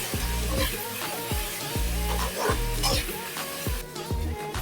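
Chopped capsicum stirred and frying in a pan for red sauce pasta, with a steady sizzle under repeated scraping strokes of a spoon against the pan at a regular rhythm, close and fairly loud.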